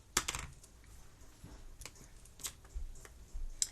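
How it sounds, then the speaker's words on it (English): Someone taps a formula into a calculator, a close run of light, irregular key presses with brief pauses and no talking. "So then we type in our calculator the formula."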